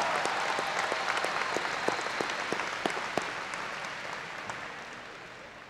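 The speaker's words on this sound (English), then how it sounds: "please join me in a round of applause for our Waco High School Honor Graduates" Applause for the Waco High School Class of 2018 top ten honor graduates fills a large graduation ceremony hall, with many hands clapping at a moderate distance and gradually fading toward the end.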